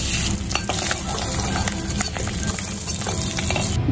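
Boiled eggs coated in turmeric and salt frying in oil in a pan, a steady close sizzle with scattered stirring and utensil clicks throughout.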